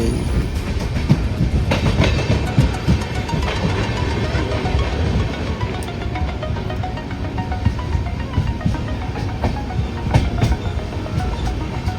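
A train from Rajkot to Mithapur rumbles steadily along the rails with a continuous clattering roar and occasional sharper clicks, loud and close throughout.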